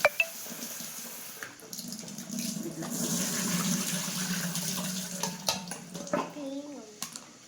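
Potatoes are rinsed under a running kitchen tap: a steady, moderately quiet rush of water with occasional splashes and clatters as they are handled, and a faint voice in the background.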